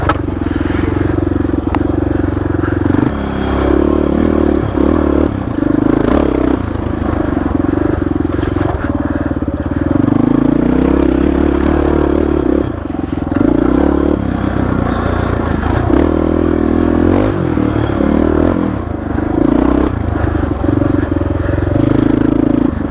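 A Honda XR650R dirt bike ridden in second gear on a trail, its engine droning loud and close throughout with rising and falling revs, plus occasional scrapes and clatter from the terrain.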